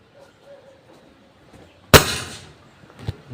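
A single sharp, loud shot bursts from a homemade DIY bullpup gun after a quiet stretch of faint background voices, followed by a brief decaying ring and a smaller knock.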